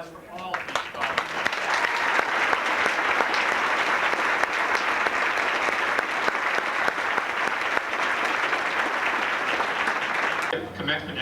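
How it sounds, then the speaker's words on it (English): A high school graduation audience breaks into long, sustained applause for the scholars, a thick crowd clapping that holds steady for about ten seconds before cutting off, with faint voices mixed in. "Big round of applause for all of these scholars."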